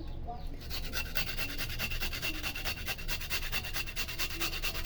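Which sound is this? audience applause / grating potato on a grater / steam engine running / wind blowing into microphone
grating potato on a grater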